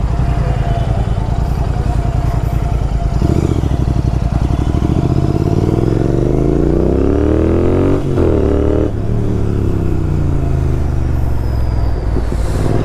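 A Royal Enfield Bear 650 motorcycle out on a test ride runs as a loud, steady engine drone, its pitch sweeping up and down through gear changes, with wind rumble throughout.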